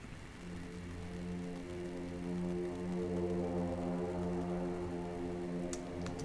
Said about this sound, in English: And then Albion 5 horns, which are cool, that are much more in the background, have reverb on them.